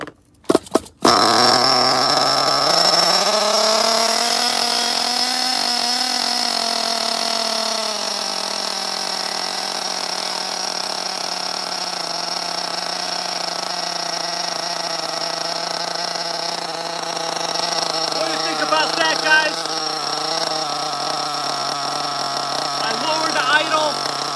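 A vintage OFNA nitro RC buggy engine runs after a sharp start, settling into a steady, buzzing high-pitched drone that rises and falls slightly and idles continuously nearby, with occasional talk over it.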